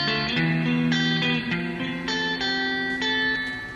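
Electric guitar played through a software amp model alone, a string of clearly picked notes that overlap and ring into each other at a steady, moderate level, with no voices.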